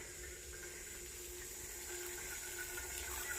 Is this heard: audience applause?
no